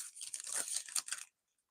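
Scissors cutting a piece of designer series paper for a card-making project, a close, crisp crunching snip that runs for just over a second before stopping, with no voices.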